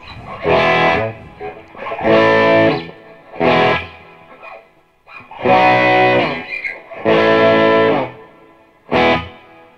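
An electric guitar through a Walrus Audio Descent reverb pedal plays several loud strummed chords and phrases, each followed by a short, washy reverb tail that fades into brief pauses between them.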